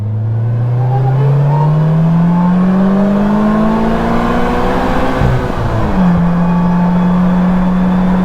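A Slingshot three-wheeled vehicle pulls away with a loud, close engine rising steadily in pitch, then a brief dip at a gear change before the drone carries on strongly.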